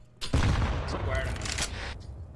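A video game shootout with a loud continuous stretch of rapid gunfire and booming impacts, heard under someone talking over it throughout.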